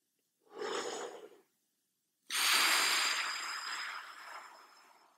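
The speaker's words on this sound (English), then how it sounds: "We're trying to get a nice, deep breath." Two deep, relaxed breaths as a breathing exercise for musicians: a short intake of air followed by a longer, steady exhale, both close and soft, with silence between and no talk.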